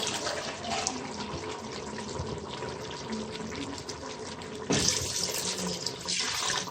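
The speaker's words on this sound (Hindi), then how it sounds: "अब मैं चावलों के हिसाब से पानी लगाऊंगी।" Water is poured into a cooking pot for rice to make mutton yakhni pulao, a continuous rushing flow that fills the clip and swells louder in a fresh surge toward the end.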